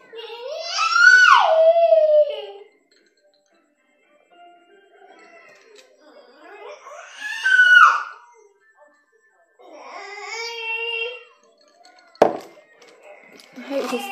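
A young child cries and screams in a few separate loud bursts in the background, with short quiet gaps between the outbursts and a sharp knock near the end.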